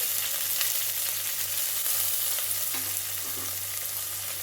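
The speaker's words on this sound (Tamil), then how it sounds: "சின்ன வெங்காயம் போடுங்க ஒரு நாலு பொருள் பூண்டு போட்டுட்டு" Shallots and garlic sizzle steadily in sesame oil in a kadai, a continuous close frying hiss with faint stirring scrapes and no talk.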